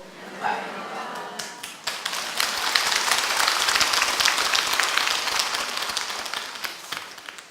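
Clapping from a temple audience at a Buddhist Dharma talk, building from scattered claps into sustained, fairly loud applause. A voice is faintly heard at the start.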